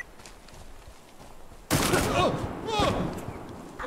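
Gunfire from a survival video game erupts suddenly partway through: a loud, dense volley of rapid shots that keeps going to the end after a quieter stretch of faint game ambience.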